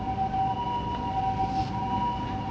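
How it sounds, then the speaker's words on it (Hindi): An ambulance siren passing along a street in Japan, a steady two-tone wail held at moderate distance over constant traffic and city hum, with no talking. "वहाँ पे एम्बुलेंस जा रही है।"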